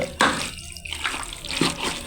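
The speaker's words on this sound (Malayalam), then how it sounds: "ഞാൻ ഇതിനകത്ത് വെള്ളം ഒഴിക്കുന്നത് തിളപ്പിച്ച വെള്ളമാണ്" Boiled water poured from a cup into a pot of chicken curry, a close, steady splashing pour that runs through the whole short stretch with a brief louder gush at the start.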